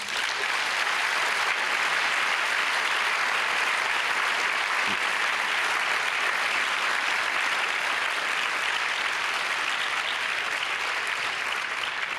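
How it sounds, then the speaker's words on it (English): An audience at a talk about the Moria refugee camp gives a sustained round of applause, a dense, even wash of many hands clapping that holds steady throughout at moderate distance. "I think that deserves a round of applause."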